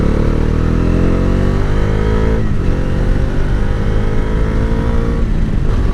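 A Bajaj Dominar 350 motorcycle engine accelerates hard with a loud, steady roar, its pitch climbing through the gears without a break, close and alone with no voices.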